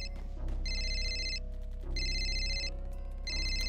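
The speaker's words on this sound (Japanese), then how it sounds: "鳴っているのは俺の携帯か？" A mobile phone rings in the video game Time Travelers: loud repeated electronic ring bursts about a second long with short gaps, over a steady low game soundscape.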